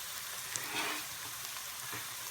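Diced ginger tipped into hot oil, giving a soft steady sizzle with a faint splash as the pieces land, quiet and alone.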